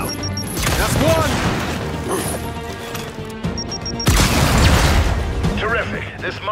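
Frag grenade blasts in the Gears 5 boot camp training level, heavy booming bursts and crashing debris under a character's spoken instructions and game music.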